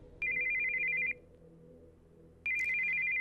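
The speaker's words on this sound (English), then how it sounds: "Heard the sound of an incoming call on a cell phone." A cell phone's incoming-call ringtone in the Steins;Gate 0 video game sounds in two bright, steady bursts separated by a pause, loud over a low background hum, with no talking.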